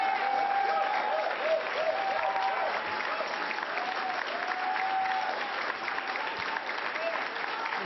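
A round of applause for the county sewer crew at a public announcement event with New York governor Hochul, sustained dense clapping from a sizable crowd with faint voices mixed in.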